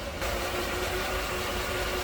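A 1989 Mercedes-Benz 560SL convertible idles steadily, a smooth continuous engine hum with a low rumble and faint mechanical whine, heard close and alone.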